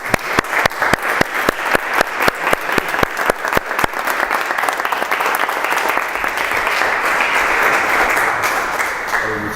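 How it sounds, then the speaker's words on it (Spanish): Audience applause at a talk, a few sharp spaced claps quickly swelling into dense, loud sustained clapping from a crowd that slowly tapers. "quiero que nos paremos todos y demos un aplauso fuerte a usted"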